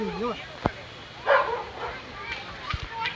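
A dog gives a few short yips and barks amid outdoor background noise at KRP Dam in Krishnagiri, with people's voices calling out briefly.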